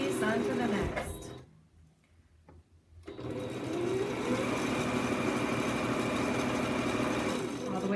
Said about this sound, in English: So again, we're just sewing from one piece onto the next.